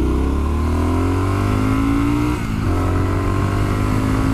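A 2021 Triumph Street Scrambler motorcycle accelerates hard in first gear, its engine note rising steadily and loud up close, with a brief dip as the throttle eases before climbing again, no talking.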